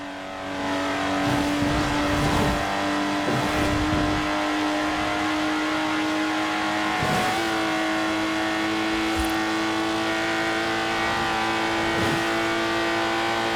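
Lotus Exige sports car driving in Forza Horizon 4, its engine droning and revving steadily at close range, with short surges and shifts in pitch throughout.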